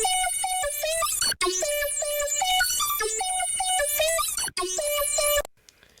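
A bright synthetic melody rendered in FL Studio loops in a beat, with bell-like stepping notes and sweeping high tones, cut by two brief dropouts before stopping abruptly into faint hiss.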